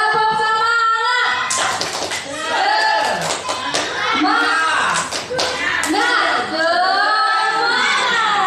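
A group, including children, performs a rhythmic chant-and-clap routine in a school setting: voices calling out in unison punctuated by sharp patterned bursts of clapping, loud and close, repeating in phrases.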